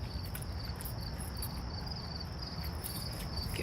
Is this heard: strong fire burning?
no